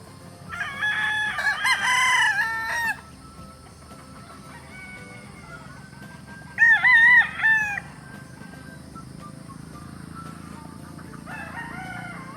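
Young gamecock stags in a cording area crow in loud, near bursts, with two long crows early on and further crows later, over a steady low bed of clucking and farmyard murmur.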